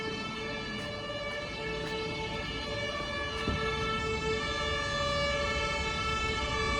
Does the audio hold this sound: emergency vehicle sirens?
yes